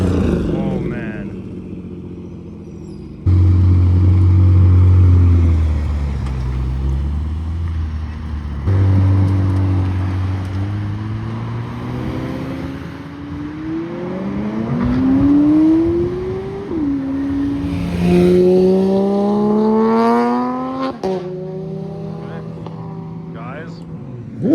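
Cars roll past one after another at Monterey Car Week, engines droning and revving loudly nearby with rising and falling pitch as each passes, while people talk in the background.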